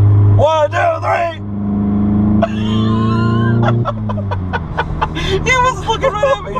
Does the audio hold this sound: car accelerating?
yes